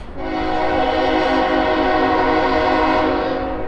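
Freight train of cars loaded with scrap metal rolling past close by, a steady loud rumble with sustained horn-like tonal whine throughout, no voices.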